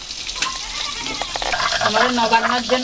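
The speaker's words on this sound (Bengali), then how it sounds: "মাছ ভাজা হচ্ছে এদিকে।" Katla (rohu-type carp) fish frying in a pan for a Nabanna harvest festival meal, a steady close sizzle and crackle with stirring scrapes throughout, while a voice speaks briefly over it.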